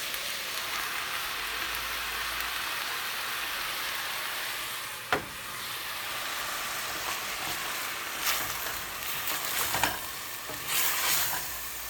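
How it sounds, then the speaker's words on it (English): Meat for California-style homemade chili sizzles loudly and steadily in a pot after chili paste goes in, with a sharp clack of the spoon and bursts of stirring over the constant hiss. "the next thing I want to add is my chili paste"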